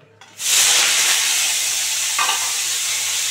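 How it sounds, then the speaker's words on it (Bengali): Steamed cauliflower florets dropped into a little hot white oil in a wok, bursting into a loud, steady sizzle that holds for several seconds with a brief stirring rustle partway through. "বন্ধুরা, ভাপানো কপিগুলো এবার দিয়ে দিচ্ছি,"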